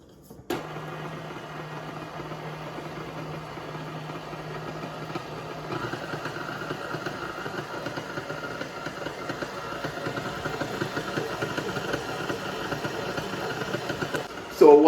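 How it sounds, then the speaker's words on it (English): A stand mixer with a dough hook kneads whole wheat dinner-roll dough, a steady mid-pitched motor hum with a faint rhythmic churn, switching to a slightly higher, busier drone partway through and ending with a louder clunk. "We're gonna use the hook today. We're gonna start in the mixing process."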